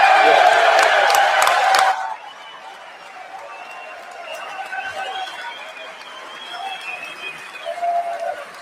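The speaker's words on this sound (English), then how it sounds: "It was a hell of a lot of clapping" Chamber applause at the State of the Union bursts loudly for about two seconds, then drops to a low murmur of crowd noise and faint voices.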